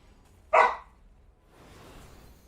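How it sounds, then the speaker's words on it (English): A single sharp dog bark rings out fairly close in an otherwise quiet room, followed by low background hiss and faint indistinct rustle. "I apologise for the dogs in the background"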